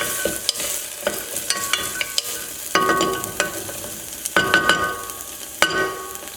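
A utensil stirs and scrapes through sauce in a frying pan over a constant soft sizzle, with repeated clicks and knocks against the pan, close and without talk.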